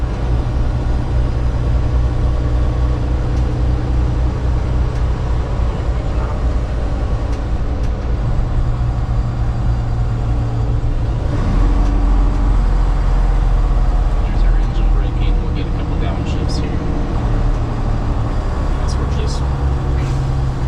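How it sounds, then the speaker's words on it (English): Western Star 57X heavy truck slowing in traffic, a loud continuous low diesel rumble from inside the cab as engine brakes engage and gears shift down, with someone talking over it. "So you hear engine brakes come on first. We'll get some downshifts as we start to slow down more."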